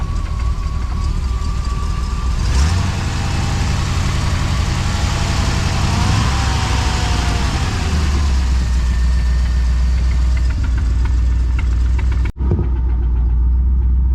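A big-block-swapped Honda Civic idles steadily up close, its engine note loud and continuous with a slight rise in revs partway through, then a brief dropout before the rumble resumes, with no talk over it.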